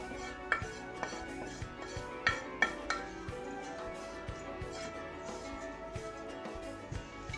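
Minced meat and onions being mixed into mashed potatoes, heard as soft irregular scraping and clinking of a utensil against a bowl, with occasional sharper taps, fairly close and without talk.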